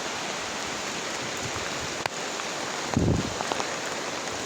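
Rain falling while out riding a motorcycle, a steady hiss of drops on surfaces, with a brief soft knock and a short low thump rising out of the patter.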